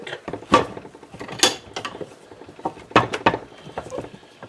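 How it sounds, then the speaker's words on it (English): A movable vise jaw is threaded onto its Acme screw, giving close, dry metallic clicks, scrapes and ratcheting knocks in irregular bursts, with no voices. "now we're going to try to thread this movable vice jaw in here"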